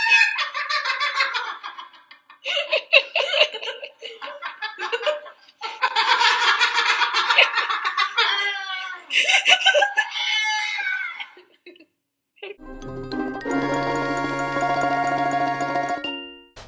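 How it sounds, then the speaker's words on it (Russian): A parrot bursts into crazed, cackling laughter in several loud, choppy runs with short pauses between them, then music takes over. "тут отличной вставкой будет смех вот этого сумасшедшего попугая"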